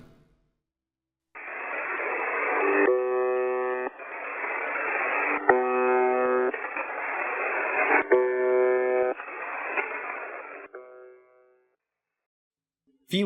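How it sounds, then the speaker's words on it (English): A harsh, droning buzzer tone sampled from the Russian buzzer shortwave radio station sounds in repeated long bursts with brief gaps, staticky and radio-like, then cuts to silence, in a video game boss fight. "The buzzer sound that plays when some of V1's arms descend is samples from the infamous buzzer radio station"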